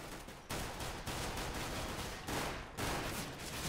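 Gunfire in the video game Counter-Strike, sustained automatic bursts crackling in a dense stream that breaks off and resumes several times, moderately quiet, with no talking.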